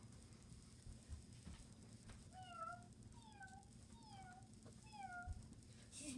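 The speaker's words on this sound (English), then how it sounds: "She's meowing so much." A small kitten meows four times in a row, thin high-pitched cries close by, over a faint low background hum.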